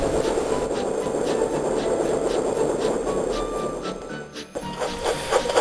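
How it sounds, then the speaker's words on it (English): A steam train rolls along the track, with a rhythmic chuffing and clatter pulsing steadily under a continuous rumble, loud and close for several seconds before easing off. "Thomas puffed along the track."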